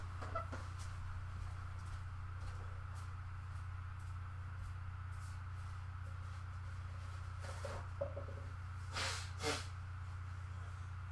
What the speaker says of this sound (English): that was either me blowing my nose